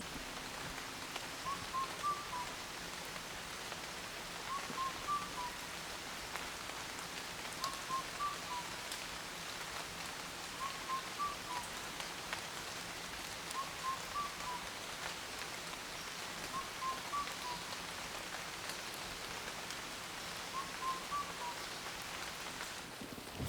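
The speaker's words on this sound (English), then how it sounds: "Here comes the rain." Steady rain falling over the jungle of Kanha National Park in India, a soft continuous hiss of drops on foliage with faint bird calls repeating in the background, fairly quiet and even throughout.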